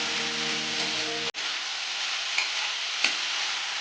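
Mushroom pepper dry stirred in a pan, a close, steady hiss of frying with scraping strokes, a brief dropout partway through, then continuing sizzle with a couple of light clinks.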